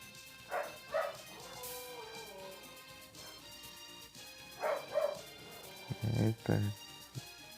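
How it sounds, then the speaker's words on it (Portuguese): Dogs bark in short, sharp pairs and clusters, fairly close, with a couple of higher yelps between, while a voice talks intermittently in the background. "Cachorro tão aqui."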